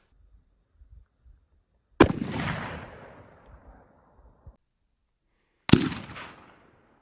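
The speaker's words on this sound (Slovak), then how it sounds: "A teraz si vypočujeme, ako znieje DDčko s úsťovkou Acheron." Two loud, sharp rifle shots from a Daniel Defense AR-15 fitted with an Acheron muzzle device, each a close crack with a long ringing decay outdoors, spaced several seconds apart, no voices.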